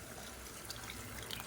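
About a cup and a quarter of hot water is poured onto sautéed chicken in a pot for biryani, giving a continuous splashing, hissing pour at close range.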